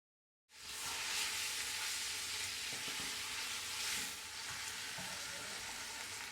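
Meat and onion sizzle in hot oil and butter in a pan, a dense, steady frying hiss that starts abruptly and stays loud and close, with faint stirring clicks.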